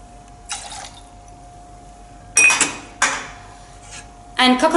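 Fresh lime juice measured and poured for a cocktail, heard as close clinks of glass and metal with short splashy pours, three or four distinct bursts separated by quiet gaps.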